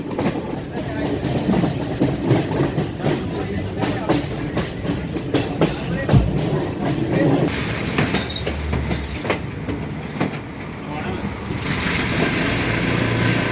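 Train rolling along rails in the hills near Nuwara Eliya, Sri Lanka, a steady rumbling clatter with intermittent wheel clicks and squeals, continuous and fairly close, with faint voices in the background.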